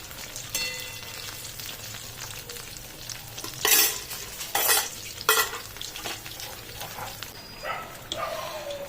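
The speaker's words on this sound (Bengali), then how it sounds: "তাহলে ফুলকপিটা ভালোভাবে ভাজা হবে এবং খেতেও ভালো লাগবে।" Cauliflower pakoras fry in oil in a pan over a low flame, a steady close sizzle and bubbling with a few louder hissing bursts midway, and no voices.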